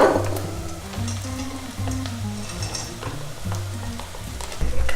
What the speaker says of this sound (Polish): Cebulka nam się zeszkliła. W tym momencie dołożymy orzechy.